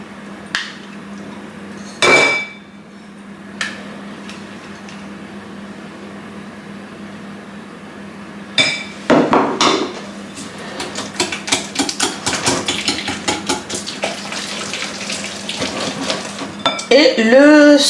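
A whisk beating butter in a bowl for banana bread, rapid close clinking and tapping against the bowl building into a steady, busy rhythm after a few scattered knocks and clatters.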